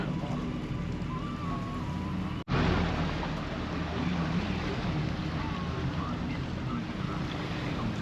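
Steady rumble of a boat engine mixed with wind buffeting the microphone and the wash of water, with a brief dropout early on, on a boat ride around Benidorm Island.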